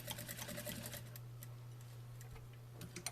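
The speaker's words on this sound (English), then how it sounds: "I'm going to backstitch really well" Domestic sewing machine backstitching a seam on a corded pillow, running in a fast, even ticking rhythm over a steady low hum, close and alone, slowing to a few final stitches.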